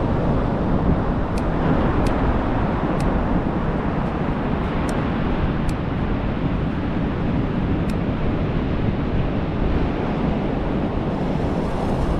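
Steady, roaring wind buffets the microphone on a beach, with a constant low rumble of surf in the background and a few faint high clicks.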